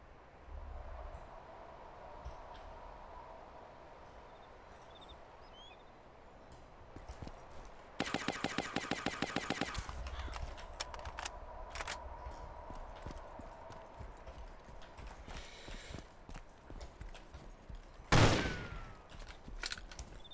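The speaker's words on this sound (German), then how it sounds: "Ich werde sogar beschossen." Gunfire in the DayZ Overpoch video game: a rapid burst of shots after footsteps, then scattered distant single cracks and one loud close blast near the end, over quiet background ambience.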